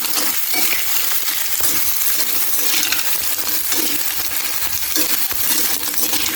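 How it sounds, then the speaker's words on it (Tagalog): Ingredients for coconut-milk snails sautéing in a pan, a steady bright sizzle with clinks and scrapes of stirring throughout, close and loud with no talk. "Lalagay na natin dito at igigisa natin."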